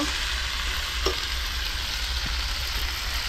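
Chicken pieces for biryani fry in spiced oil with a steady, dense sizzle, close and loud, with a brief clink of a stirring utensil against the pan partway through.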